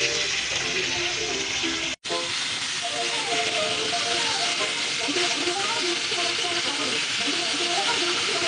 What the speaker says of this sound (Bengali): তেল গরম হলে মাছগুলো ভেজে নেব।